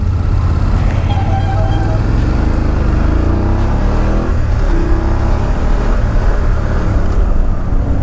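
A BMW 850 GSA motorcycle pulls away and rides on, its steady engine drone loud and close, with a constant low rumble and wind noise throughout.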